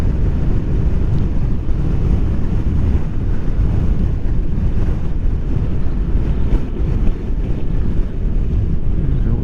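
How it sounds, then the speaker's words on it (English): Gusty wind buffets the microphone, likely during a Honda NC750XA motorcycle ride, producing a loud, continuous low roar and rumble that stays steady for the whole stretch. "It's gusty, that wind."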